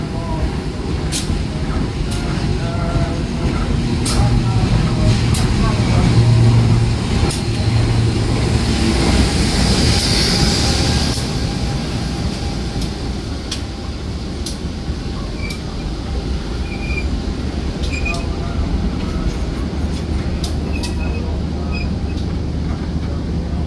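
Steady rumbling and rattling fill the inside of the Logawa passenger train running from Purwokerto to Jember in Indonesia, with a continuous rail roar and scattered clicks and squeaks throughout.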